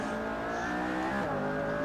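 McLaren P1 hypercar engine at Silverstone in Assetto Corsa, a loud sustained high-revving wail with strong harmonic whine climbing steadily as the car pulls hard down a straight, close and alone.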